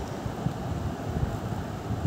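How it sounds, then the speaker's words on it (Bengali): Wind blows across an open rooftop while pickle cooks there, giving a steady low rumble and buffeting hiss with soft gusts against the microphone and no speech. "ধোঁয়া হচ্ছে, যেহেতু বাতাস চারিদিকে বইছে।"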